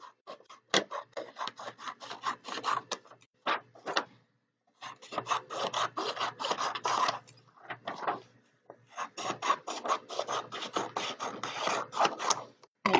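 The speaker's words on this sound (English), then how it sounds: "And then you are going to trim up the teal page" A teal paper page being trimmed while a math geometry notebook is set up: soft, rasping cuts and rubbing strokes in quick clusters, broken by a few brief pauses, close and fairly quiet.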